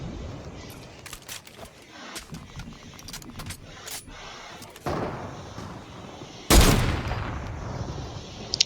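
Rapid shots crack out in an arena shooter video game. Quick sharp bursts of gunfire sit over a busy game background, and a louder close blast comes near the end.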